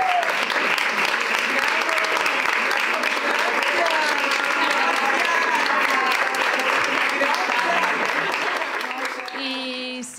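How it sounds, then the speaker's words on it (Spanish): An audience applauds the storytellers after a spontaneous theatre performance, a dense, sustained burst of clapping that holds steady for about nine seconds before tapering off. "és un aplauso per a les narradores"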